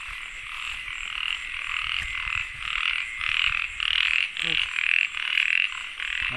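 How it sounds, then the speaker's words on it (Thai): Frogs croaking at night beside rice fields, a dense chorus of pulsing croaks that come in regular bursts, fairly near and steady, with no voices over them. "มีเสียงรบกวนมีแต่เสียงเขียด"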